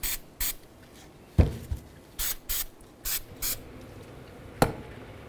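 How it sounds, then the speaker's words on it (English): Several short hissing sprays of cleaner onto wheel hub mounting hardware of a 2004-2009 Dodge Durango, each a quick close burst, some in pairs, with a couple of light clicks between. "Let's give these a quick spray down."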